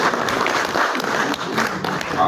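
Dense applause from a crowd at a swearing-in ceremony, steady and sustained throughout, with a murmur of voices mixed in.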